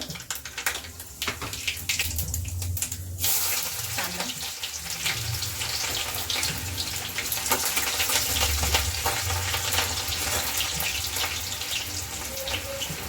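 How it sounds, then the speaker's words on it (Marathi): Mustard seeds and cumin dropped into hot oil, a dense crackling sizzle that swells after a brief pause and carries on steadily, close by, with a little faint background noise. "आता तेल गरम झालेलं आहे आता यामध्ये मोहरी टाकते"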